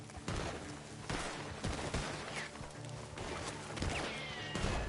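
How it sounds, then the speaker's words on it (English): Rapid bursts of gunfire in the video game Red Dead crackle repeatedly, some volleys overlapping, amid a busy, dense background of action noise. "Gunshots are coming from that barn!"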